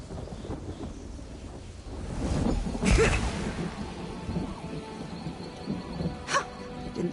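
Lightning and thunder in a stormy Elder Scrolls Online scene: a loud cracking thunderclap swells and rumbles, with a later sharper crack, over a steady bed of rain and wind.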